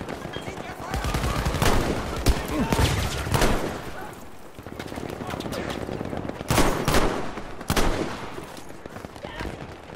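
Battlefield V gunfire: a dense mix of loud, close rifle and machine-gun shots in bursts, with heavy cracks around the two-second mark and again near seven and eight seconds, all set against ongoing battle noise.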